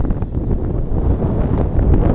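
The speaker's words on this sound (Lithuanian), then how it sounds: "vėjas pučia, galbūt prastai girdėsis" Wind buffets the microphone in a steady, low rumbling roar that continues without a break for the whole moment.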